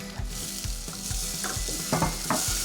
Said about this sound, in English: Oh yes, a bit of a sizzle going on now.